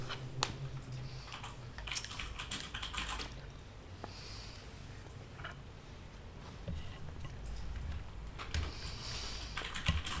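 Keyboard typing while playing Final Fantasy XIV: A Realm Reborn, a steady stream of clicky keystrokes close up under game ambience and music, with a few louder bursts.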